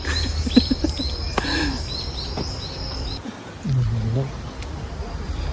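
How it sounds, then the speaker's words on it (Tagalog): Several birds chirp and tweet in quick bright bursts over a low background hum, with a person speaking briefly partway through. "Yung huni ng mga ibon"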